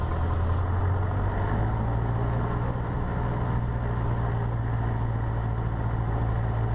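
Cessna 150 piston engine at a 1700 rpm run-up, a loud steady drone with strong low harmonics that holds unchanged throughout with no voices.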